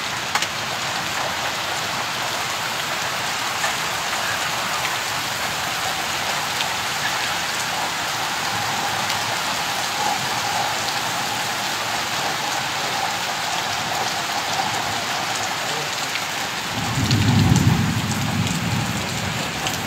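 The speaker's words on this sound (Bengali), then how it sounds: "প্রচণ্ড বৃষ্টি হচ্ছে" Heavy rain pours steadily over a flooded road in Shariatpur, Bangladesh, a dense, even hiss of drops. Near the end a deep rumble of thunder rolls in.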